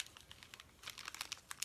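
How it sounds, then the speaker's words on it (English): Washi tape pulled and pressed across a paper tag on a lollipop, a quiet close run of crinkling, tapping rustles that grows busier toward the end. "you're going to basically just add your washi tape right across it"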